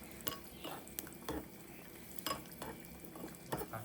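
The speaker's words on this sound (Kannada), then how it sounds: "ಈಗ ದ್ರಾಕ್ಷಿ ಗೋಡಂಬಿ ತುಪ್ಪದಲ್ಲಿ ಕಡಿಯೋಣ" Raisins frying in ghee in a pan, with a soft steady sizzle broken by several sharp clinks and scrapes of a spoon stirring against the metal, close and moderately quiet.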